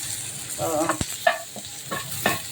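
Onion frying in oil in a pan, an even sizzle close by, broken up by a few scraping stirs and a sharp clack of a utensil, with no one talking.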